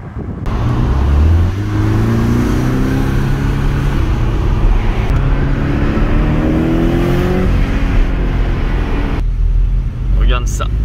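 A Porsche 718 Cayman's engine pulls and revs in rising sweeps, loud and close with steady road noise underneath, while people talk over it.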